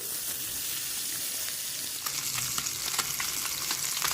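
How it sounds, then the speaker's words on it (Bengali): Steady crackling sizzle of fish frying in hot mustard oil over a medium-high gas flame, dense and close, with sharper pops and spatters growing busier in the second half. "তেল কড়াতে সর্ষের তেল ভালো করে গরম করে মাছগুলোকে হালকা করে একটু ভেজে নেব"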